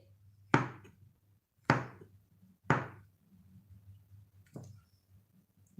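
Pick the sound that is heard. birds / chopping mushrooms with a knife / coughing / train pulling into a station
chopping mushrooms with a knife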